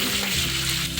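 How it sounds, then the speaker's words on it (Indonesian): Chillies frying in hot oil for a fish mangut in coconut milk, a dense, steady sizzle with sharp little pops and crackles, close and loud throughout. "Tuh aja udah meletus-letus cabenya."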